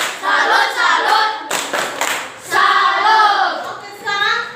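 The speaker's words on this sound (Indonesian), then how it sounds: "sekarang tepuk tangan dulu untuk mereka" A classroom group applauds another group in rhythmic bursts of clapping, with voices chanting together over the claps.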